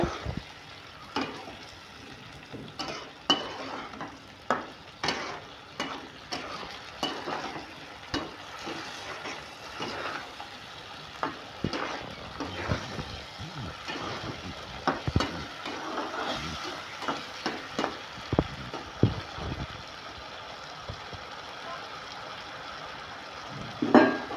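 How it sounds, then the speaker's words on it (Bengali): A steamed egg mixture with tomato sauce and nut paste is stirred and fried in a pan. Irregular spoon scrapes and taps sound over a soft, quiet sizzle, fairly close and without talk. "টমেটো সস দিয়ে আমি ভালো করে এটাকে নাড়াচাড়া করে কষিয়ে নেব।"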